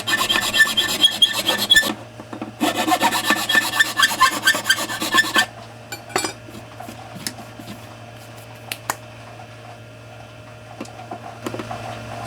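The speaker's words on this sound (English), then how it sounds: "This file is cutting through the fiberglass really quick." A hand file rasps through fiberglass in close, loud bursts of rapid strokes over roughly the first five seconds, then gives way to quieter scraping against a steady low hum.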